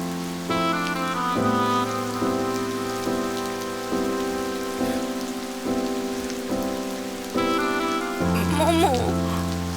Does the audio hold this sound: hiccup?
no